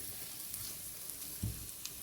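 Garlic frying in a pan on low to medium flame while making shakshuka, a soft steady sizzle with faint crackles and one small stir or clatter near the end, no talking.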